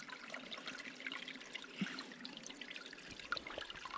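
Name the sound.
water trickling in a stream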